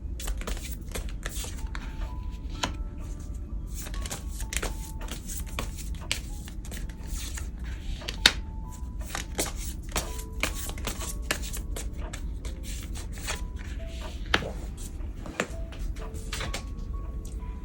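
Tarot cards are shuffled continuously by hand for a long stretch, a dense run of soft riffling and slapping close by, with no one speaking.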